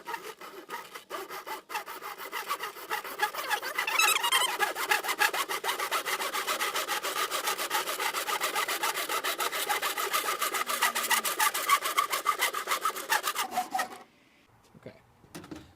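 A hand saw cuts a groove into slippery ABS plastic pipe for RC drift car tires, giving rapid rasping back-and-forth strokes that start slowly, then run steady and close for about twelve seconds before stopping.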